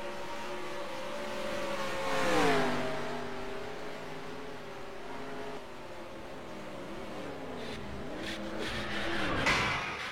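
Race cars in a racing video game replay, engines rising and falling in pitch as they pass, with tire squeal and scraping noises near the end, no voices.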